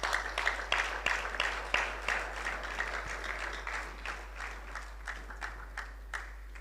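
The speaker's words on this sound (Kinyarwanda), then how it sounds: "Let's clap for the Lord." A church congregation claps together for the Lord, a steady stream of hand claps with a few sharper individual claps, moderately distant and gradually thinning toward the end.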